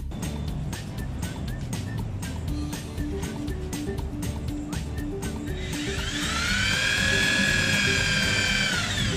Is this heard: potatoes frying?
no